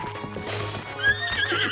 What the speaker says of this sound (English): Horse. Horse.